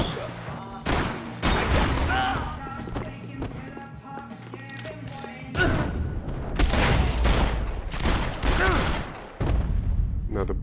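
Gunfire from the Max Payne 3 video game, a sustained fusillade of many rapid, loud close-range shots that comes in bursts, with pauses and heavy booming impacts, mixed with voices talking over the action.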